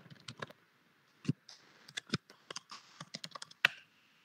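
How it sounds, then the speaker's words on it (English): An email address is typed on a computer keyboard to log in, sharp close clicks landing in short uneven bursts with brief pauses between, in a quiet room. "I'll just type in my mail ID and I'll just log into this particular platform"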